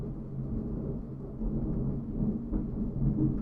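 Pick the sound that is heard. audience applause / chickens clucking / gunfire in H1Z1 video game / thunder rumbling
thunder rumbling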